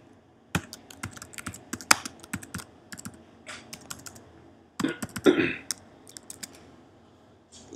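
Typing on a computer keyboard while writing code in Adobe Dreamweaver: sparse, irregular close key clicks in short bursts, with a louder cluster of taps near the end and no talking over them.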